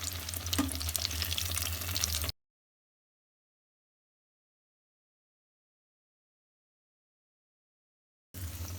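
Bread pakoras frying in hot oil, a steady close sizzle that cuts out abruptly partway through and returns briefly at the end.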